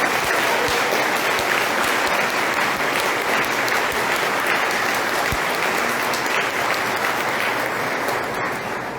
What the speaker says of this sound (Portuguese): vamos saudar o Padre Carlos Augusto com a calorosa salva de palmas.